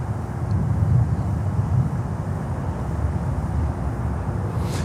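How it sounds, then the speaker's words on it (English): United Airlines Boeing 737 MAX 9 jet on runway 12 at Miami airport, a steady low engine roar heard from a distance, holding at an even level throughout. "let's get United from runway 12. That's a max 9."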